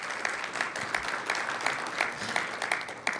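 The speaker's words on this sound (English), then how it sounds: "Let's give him a wave and a round of applause." Audience at an airports authority certification program launch gives a round of applause, steady clapping at moderate distance with some sharper individual claps, continuing throughout without speech.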